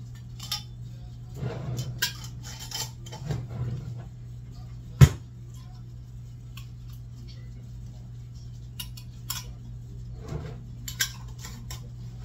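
Glass quart jars of canned pumpkin set down into a metal canner give faint clinks and taps, with one sharp knock midway, over a steady low hum and soft background voices.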